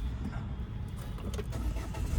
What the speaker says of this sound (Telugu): లోపల కూర్చున్నాక ఇంజన్ చాలు చేద్దాం.